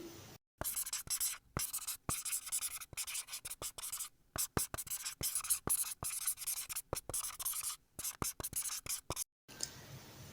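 Steady scratching of a pen or marker writing out math working, in short strokes broken by brief pauses, close and faint, with no talking.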